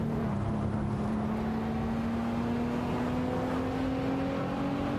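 Koenigsegg Agera RS and Lamborghini Aventador SVJ race cars in a racing video game, their engines a steady, continuous drone whose pitch climbs slowly throughout, with no talking.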